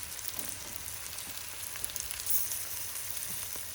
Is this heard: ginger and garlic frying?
yes